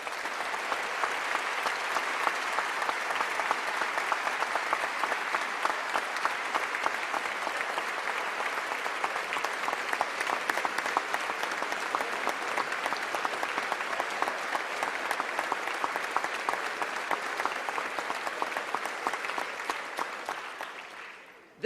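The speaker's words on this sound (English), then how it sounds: "so let's give her a round of applause." Sustained audience applause fills the hall at a 2014 State of the State address, a dense, steady clapping wash lasting about twenty seconds before tapering off at the end.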